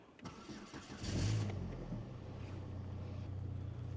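A car engine cranks and catches on a snowy day in a yard, a burst of starter noise followed by a steady low idle that continues to the end.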